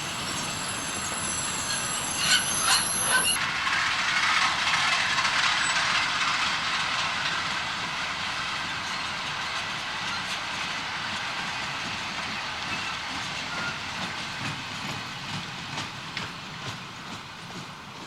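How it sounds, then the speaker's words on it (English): EWS-liveried Class 66 diesel locomotive hauling a rake of HAA hopper wagons on a junction flyover: steady rolling rumble with loud metallic wheel squeal at the start that fades, then a continuous wagon rumble that gradually eases off. "EWS liveried 66175 brings a rake of HAA hoppers up from Belmont Yard via flyover West Junction and heads towards Rossington Colliery"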